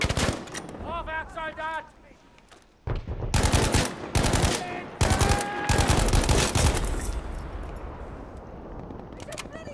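Bursts of rapid machine-gun fire from a video game, with loud rattling volleys separated by short gaps and a voice talking between and over the shots.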